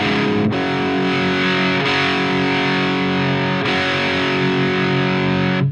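An electric guitar through a modified Marshall JCM800 amplifier rings out in heavily distorted, sustained chords, struck three times with each one left to hang and ring at full volume.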